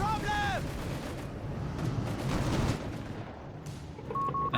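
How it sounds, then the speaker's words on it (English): Grenade blasts from a Company of Heroes 3 match between Wehrmacht and Afrika Korps and American forces, heard as rumbling explosions and scattered gunfire at steady loudness, with a short tone at the start and a beep near the end. "Grenades being employed here"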